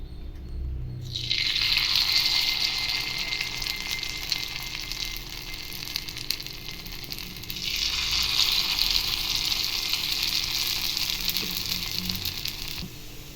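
Paniyaram batter sizzles in a hot pan, a steady bright hiss that swells again partway through as more batter is poured in, close up and with no voices.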